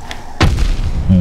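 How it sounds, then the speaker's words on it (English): A sudden heavy boom from an explosion in the video game Hollow Knight, set in the Infected Crossroads, hits sharply after a brief quieter stretch and rumbles on with a low thudding tail. "That was a big explosion."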